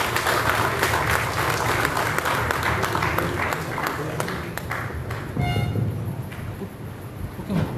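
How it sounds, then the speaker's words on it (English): An audience applauds at the prize distribution of a cooking competition, a loud, dense clapping that carries on for several seconds before thinning slightly, with some crowd noise mixed in. "So let's give him a big round of applause."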